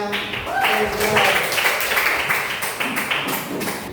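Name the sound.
class applauding a group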